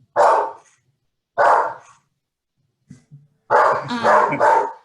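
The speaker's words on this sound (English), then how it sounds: "sorry, that's my dog" A pet dog barks loudly and close by during an online meeting: two single sharp barks spaced about a second apart, a brief low grumble, then a longer run of rapid barking.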